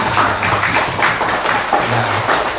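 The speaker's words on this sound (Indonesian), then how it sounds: "Tepuk tangan untuk semuanya." A class claps together at the end of a maths lesson on ratios, giving a short, dense, fairly loud burst of hand claps with a faint hum underneath.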